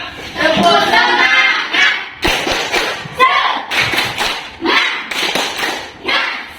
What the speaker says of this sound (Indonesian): Nah, kita tepuk semangat ya.